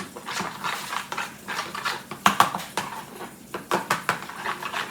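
Spoon clinking and scraping against a bowl while Maryland crab cake mixture is stirred with a tablespoon of Old Bay seasoning: irregular close taps and knocks, with a few sharper clatters, no voices.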